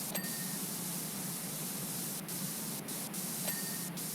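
A pressure washer nozzle spraying in the video game PowerWash Simulator 2, a continuous even hiss of water jet running steadily with a few faint clicks, no voices.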